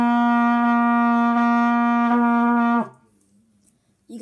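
A single sustained trumpet note held loud and steady for almost three seconds, then cut off into near silence with a faint noise at the very end.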